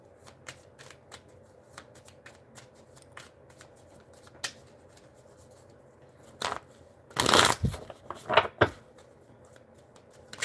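Tarot cards are shuffled by hand in a quiet room, with a steady patter of soft riffling snaps and a louder, denser flurry of shuffling toward the end.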